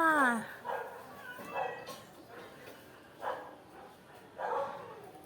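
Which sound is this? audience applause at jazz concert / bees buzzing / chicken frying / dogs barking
dogs barking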